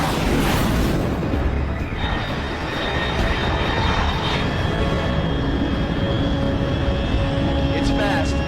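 An aircraft roars overhead in the video game Metal Gear Solid Delta: Snake Eater, a loud, steady engine rumble and rush that fills the whole span, with a voice talking over it.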